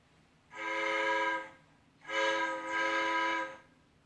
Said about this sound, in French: Le train arrive au pays des comptines.